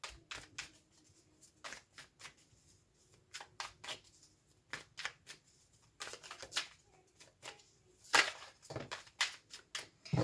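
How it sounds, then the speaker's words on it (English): Tarot cards being shuffled and pulled from the deck, a run of soft papery riffles and brisk slaps, close and fairly quiet, in bursts with short pauses and no talking. "Let's go ahead and pull some more cards for clarification."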